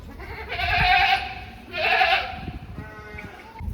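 A goat bleats twice in long, wavering cries, close by, with soft rustling and movement noises around it.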